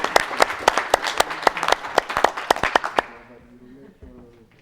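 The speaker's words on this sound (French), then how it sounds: "On les applaudit." A small audience at a French launch event breaks into brisk, close applause for about three seconds, distinct claps standing out, before it dies away and someone starts speaking.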